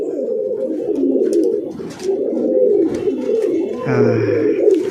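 A male tournament racing pigeon coos in repeated low, throaty bursts close by, with other pigeons cooing around it and a brief higher whistling call near the end.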